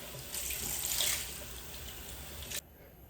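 Water from a bathroom tap splashes steadily into a sink during a face rinse, a close, continuous rushing stream that stops abruptly near the end, leaving quiet.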